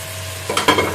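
Onions frying in hot oil for chana pulao, a brief close sizzle that swells midway with stirring scrapes, no talking.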